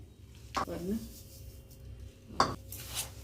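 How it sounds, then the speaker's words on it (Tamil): A spoon works through a rava laddu mixture with sugar and grapes in a bowl, giving two distinct scraping clinks about two seconds apart over quiet room background. "இது நல்லா இப்படி கலந்து விட்டுக்கலாம்"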